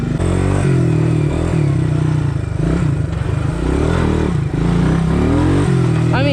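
A four-wheeler quad engine revs loudly and close, with the pitch rising and falling as the throttle opens repeatedly, and a voice is heard over the engine.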